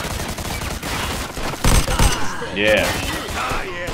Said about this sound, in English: let me get my machine guns out